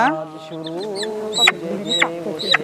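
Chickens at a market cluck close by in a series of drawn-out calls with three sharper squawks near the end, while a voice talks underneath.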